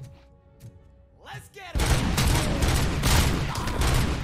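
Enemies in RoboCop: Rogue City open fire, a sudden loud barrage of rapid gunfire and impacts bursting in after a quieter moment of game sounds and continuing densely at close range.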